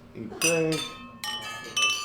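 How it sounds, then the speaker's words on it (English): Glasses clink together in a toast at a Georgian supra feast, a few bright chiming strikes in quick succession with voices briefly audible in between. "Every guest at the table lifts their glass and clinks it with everyone they can reach."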